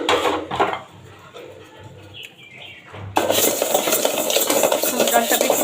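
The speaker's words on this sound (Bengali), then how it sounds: "ডালগুলো আমি একটু ভেজে নেব" Mashkalai lentils fry in a pan while a utensil stirs and scrapes them, quieter scraping at first, then a loud, steady sizzle-like rush from about halfway.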